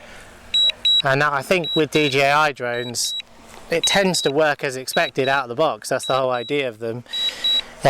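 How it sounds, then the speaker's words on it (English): Someone talks steadily while a DJI drone's high, thin electronic beep repeats at regular intervals underneath his voice. "you'll hear beeping because for some reason DJI think it's a great idea to have a beeping sound"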